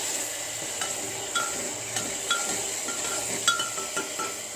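Tomato gravy for a drumstick curry being stirred in a pan, with a low constant sizzle and regular light clinks and scrapes of the spoon about every half second, no talking.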